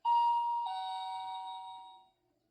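A two-tone doorbell chimes once at close range, a bright high note falling to a lower one that rings out and fades over about two seconds, with no voices over it.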